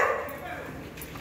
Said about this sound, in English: Neighbors' dogs across the alleyway there, making noise.